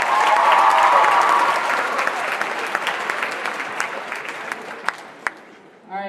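Audience applause at an improv comedy show, a dense burst of many hands clapping that starts loud and gradually thins and fades over several seconds, with a few scattered late claps and a voice at the very end.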